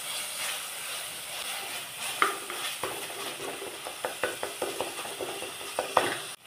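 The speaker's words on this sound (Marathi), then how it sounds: "सगळं व्यवस्थित छान टोमॅटो एकदम सॉफ्ट होईपर्यंत हलवून घ्यायचं परतून छान" Tomato masala with turmeric being stirred and sautéed in a pan, a soft continuous sizzle with repeated scraping spatula strokes that grow more rhythmic toward the end, no voices.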